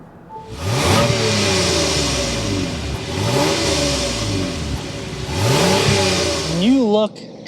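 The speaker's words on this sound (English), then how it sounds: "start it up so you can hear that exhaust note" A 2024 Lexus ES 350 F Sport, a V6 sedan, starts up and revs several times with a rising and falling exhaust note, loud and close, and ends in a sharp final rev.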